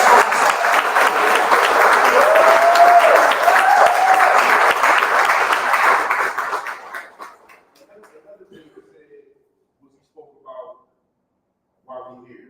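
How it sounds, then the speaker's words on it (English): Graduates clap for themselves at a graduation ceremony, a loud, dense wash of applause with crowd voices that holds for about six seconds, then fades out, leaving a few faint scattered sounds. "So you gotta clap for yourself."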